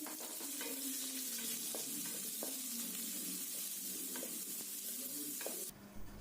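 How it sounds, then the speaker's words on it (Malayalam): Shallots and onion frying in a pan for a Christmas duck curry, a steady bright sizzle with several spoon scrapes and stirs, rising into louder crackling at the very end. "ഇനി ഇതിലോട്ട് ചെറിയ ഉള്ളി ചേർത്ത് കൊടുക്കണം."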